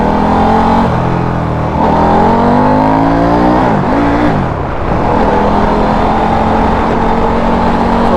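A KTM motorcycle that runs rough below 3,000 rpm accelerates hard. The loud, close engine note climbs through several rising revs, dips briefly between gears, then carries on in a steady high drone.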